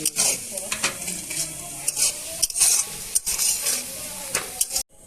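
Onions frying with a pinch of salt in a pot over an outdoor picnic cooking fire, loud continuous sizzle broken by repeated scraping stirs of a spoon, no talk.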